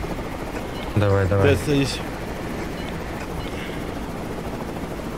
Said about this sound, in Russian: Отстал, окей, бегите к вертушке.